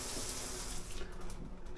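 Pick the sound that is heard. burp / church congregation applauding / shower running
shower running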